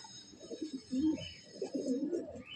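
Low, soft cooing from Giribaz pigeons, a few gentle murmuring calls heard close but quiet, without talking.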